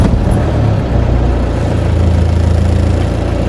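A car engine runs steadily nearby after starting, a low continuous rumble with no voices, as a vehicle is readied before driving to a chicken shop in Kolhapur.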